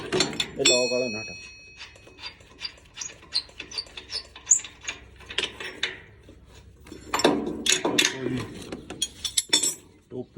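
Nuts being loosened with a wrench on a tractor-mounted machine, heard as clustered metallic clicks and ratcheting clanks in uneven bursts, close by, with people talking in between.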